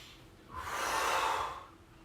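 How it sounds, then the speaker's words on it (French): A single long, forceful breath of fire exhale, part of a breathing exercise for raising energy, swells into a steady airy rush close to the mic and then fades, heard alone with no talking. "pour monter l'énergie, on va faire une respiration de feu"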